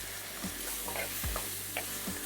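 Prawns stir-frying with bilimbi in a pan, a soft sizzle with a few spatula scrapes and knocks over about two seconds, with no voices.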